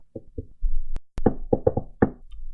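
A door is knocked in a catchy rhythmic pattern: two gentle raps, a pause, then a quick run of several close, crisp knocks, with no voices.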